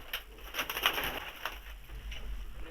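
Competition flying pigeons flutter and shuffle close by, with soft cooing and scratchy wing and feather noises over a low steady hum.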